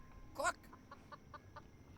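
A chicken in a ramshackle coop in the video game Foolish Mortals gives one sharp, louder cluck followed by a short run of quiet, evenly spaced clucks, close and alone.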